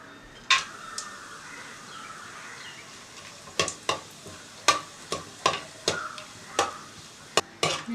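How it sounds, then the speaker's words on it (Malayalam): Almonds frying in a pan for semiya payasam, with a steady low sizzle and sharp, regular clinks and scrapes of a spoon stirring against the metal, close and alone. "കുറച്ച് ബദാം വറുത്തെടുക്കാം."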